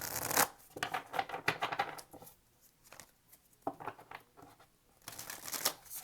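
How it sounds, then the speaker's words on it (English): Tarot cards riffled and shuffled in quick papery bursts, with short quiet gaps between rounds of shuffling, close and fairly soft. "Two more shuffles"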